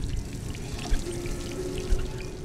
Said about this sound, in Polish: Mogę pić z kranu?